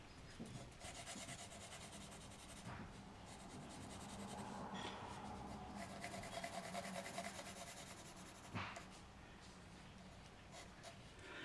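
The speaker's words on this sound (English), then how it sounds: "I'm going to shade it with the local color. I'm using this 2B pencil." Graphite 2B pencil shading a shoe drawing on paper, a steady close scratchy rubbing that runs continuously with small strokes and brief louder scrapes, with no voices.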